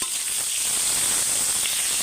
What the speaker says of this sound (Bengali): ফুলকপিগুলো লাল লাল করে ভাজা হয়ে গেছে